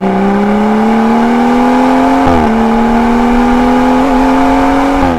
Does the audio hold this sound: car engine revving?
yes